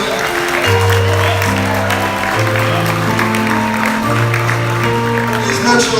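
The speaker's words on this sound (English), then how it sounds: "A round of applause for him," An audience applauds at the graduation ceremony of the royal prince of Asantemanso. The broad, steady clapping runs under loud, sustained instrumental tones for the whole stretch.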